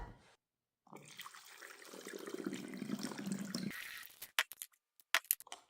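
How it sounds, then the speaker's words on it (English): Homemade kombucha tea is stirred and poured into bottles, a quiet liquid swirl and pouring that runs steadily for a few seconds, then stops and gives way to a few brief clinks and taps of glass. "I will just go ahead and give it a stir and get them bottled up."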